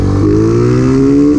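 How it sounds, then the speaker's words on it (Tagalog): A Rusi Macho 150 motorcycle with a stock engine fitted with a 30mm carburetor pulls away from a standstill, its steady loud engine note climbing in pitch under hard acceleration, heard up close from the rider's position. "mapapansin nyo naman nyo, arangkada pa lang ay napaka-aggressive na ng ating makina"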